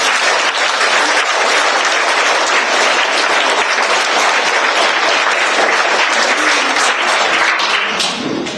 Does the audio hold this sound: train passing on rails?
no